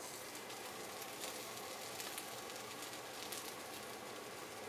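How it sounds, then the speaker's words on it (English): Food sautéing in oil over high heat gives a faint, steady sizzle and crackle throughout, with no voices. "you want to saute on a pretty hot, pretty high heat"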